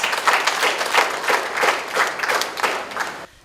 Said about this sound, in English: Shall we not encourage them, appreciate them with another round of applause?